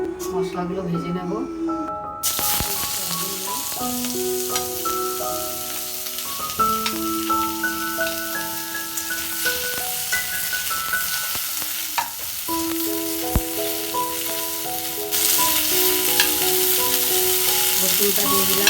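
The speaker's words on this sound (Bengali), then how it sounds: "মশলাগুলো ভেজে নেব।" Spices frying in oil in a pan while a Maharaja chicken gravy is cooked, a steady sizzle under a strong musical tone backing throughout.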